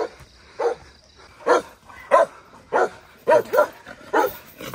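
A dog barks repeatedly at a rural village spot during a Saturday morning hike, roughly eight sharp, loud barks in an uneven rhythm, fairly close, with no talking in between.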